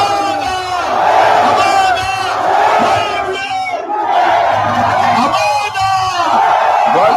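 A loud crowd shouts, yells and screams together, with overlapping raised voices rising and falling throughout.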